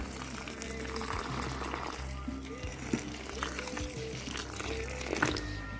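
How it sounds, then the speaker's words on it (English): Hot water pours steadily by hand while washing car alloy wheels, a low, continuous trickling splash heard faintly at a distance alongside a steady background hum. "Ooh, hot water."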